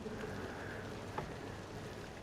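Light rain pattering in the farming game Farm Sim 25, a quiet, constant hiss of drops that carries on evenly, with one brief faint tap near the middle.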